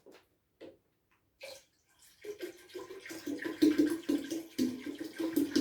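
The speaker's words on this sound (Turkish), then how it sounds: "Sularını ekleyelim." Fresh tap water is poured into a home aquarium during routine maintenance. A few scattered drips and splashes come first, then a steady, close-up pour and splash of water builds and continues to the end.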